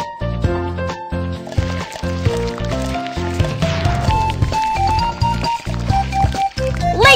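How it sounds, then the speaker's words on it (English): Squishy liquid stirring of a latex and water mixture in a children's animal puzzle game, sounding midway through under steady, bright, melodic game music that plays throughout. "Stir the mixture."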